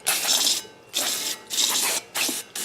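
Aerosol brake cleaner sprayed onto a brake rotor of a Honda Odyssey, in four close hissing bursts of about half a second each, with short pauses between them.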